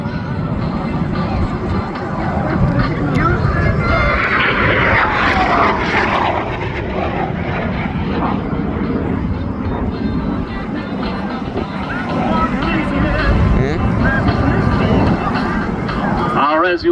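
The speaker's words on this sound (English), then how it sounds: "you can see the aircraft repositioning out there, doing a nice big turnaround out here directly off of the left end zone, coming back in hot from our left side" An airshow aircraft in Waukegan drones in a long, steady engine roar as it flies past, swings wide and turns back in, loud and continuous under an announcer's running commentary.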